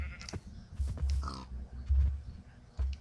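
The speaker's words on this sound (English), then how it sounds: "I see a pig." Several low, short grunts from a pig in Minecraft come in uneven bursts across a few seconds, fairly quiet, with a brief higher bleat-like squeal among them.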